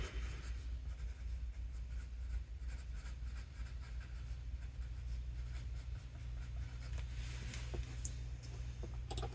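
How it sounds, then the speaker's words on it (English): Pen writing on paper, a steady close scratching with small ticks over a constant low hum, continuing without pause and with no talking. "Write that down."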